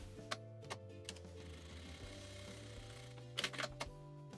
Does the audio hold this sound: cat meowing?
no